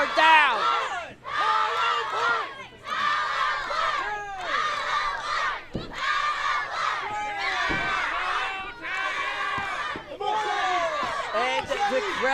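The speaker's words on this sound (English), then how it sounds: "the crowd here in Hanford is on their feet and screaming for Hollow Point and Kevin Ducqets" At a lucha libre wrestling show in Hanford, a crowd screams and cheers in repeated loud surges, with brief pauses between bursts of voices, sustained over twelve seconds.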